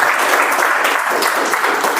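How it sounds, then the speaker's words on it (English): A Toastmasters club audience applauds the best speech evaluator, a loud, close, continuous wash of clapping hands throughout. "Round of applause for her, please."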